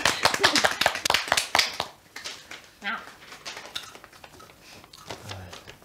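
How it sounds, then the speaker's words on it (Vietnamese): A family gathered at home breaks into a brief burst of fast clapping that fades after about two seconds, followed by scattered taps, clatter and talking voices. "Hay một tràng pháo tay cho anh công ấy."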